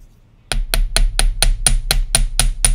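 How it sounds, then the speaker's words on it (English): A large chasing hammer strikes a loop of heavy 12 gauge jewelry wire for a bangle bracelet, about ten sharp metallic taps in a steady even rhythm, loud and close, after a brief silence, with no talking. "my large chasing hammer here and just work on the loop right now"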